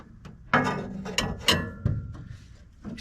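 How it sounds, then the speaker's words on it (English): A jack raises a third-generation Camaro being built into a cheap race car, giving close, loud ratcheting clicks and clanks in uneven bursts with short pauses between strokes. "going to try and jack it up"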